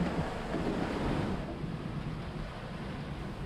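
Ocean waves washing and rushing around a sailboat at sea on an overnight solo passage, a steady close wash of surf mixed with wind buffeting the microphone, fading slightly toward the end.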